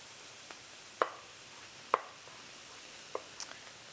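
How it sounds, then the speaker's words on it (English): Knife cutting grilled chilies and peppers on a board, three crisp separate chops spaced about a second apart, near and clear over a quiet room. "It is easier to slice chilies and peppers from the fleshy side rather than the plasticky skin"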